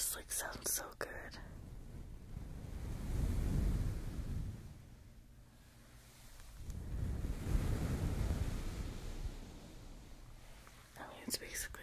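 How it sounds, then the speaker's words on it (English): Slow ASMR brushing across a microphone, swelling and fading in two long surges like ocean waves rolling in, with soft whispering at the start and end. "That one definitely sounds like the ocean."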